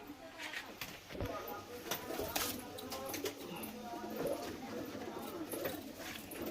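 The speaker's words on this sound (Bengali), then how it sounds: "বন্ধুরা এই দেখুন পায়রা দেখুন, স্ট্যান্ডিং দেখুন পায়রার।" Pigeons in a loft coo softly in the background while someone talks over them, with scattered scuffling and light patter from the birds nearby.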